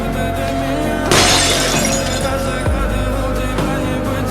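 A priceless, thousands-of-years-old egg shatters in one loud, bright crash that breaks over a dense music-and-effects bed, with a deep thud following a moment later.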